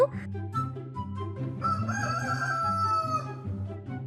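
An animated cartoon chicken crows in a loud, close, drawn-out cock-a-doodle-doo over a bouncy musical backing, with a clucking rhythm underneath.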